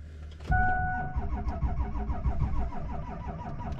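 A 7.3 Powerstroke diesel truck engine cranks and catches with a sudden loud start, then settles into a rough, uneven idle with a pulsing clatter and a brief high whine early on.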